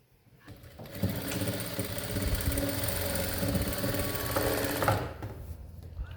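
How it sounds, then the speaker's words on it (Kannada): Sewing machine stitching a semi high neck blouse, one steady continuous run of dense mechanical whirring that starts abruptly, holds for about four seconds, then stops, close and loud with no talk. "Double stitch ಹಾಕ್ಬಿಡೋಣ."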